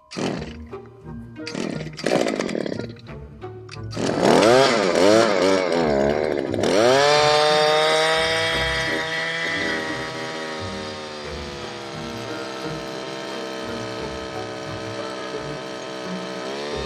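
A Shindaiwa gas two-stroke hedge trimmer pulls and sputters a few times, then fires and revs to a loud, buzzy scream before settling into a steady high whine that slowly eases off, close by with no speech.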